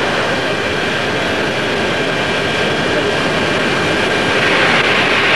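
A medical emergency helicopter lifts off, its steady broadband engine and rotor roar holding loud and constant throughout, growing slightly toward the end, with no clear speech over it.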